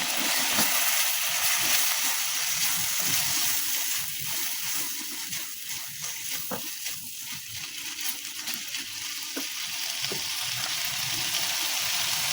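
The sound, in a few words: garlic and ginger paste frying in a pan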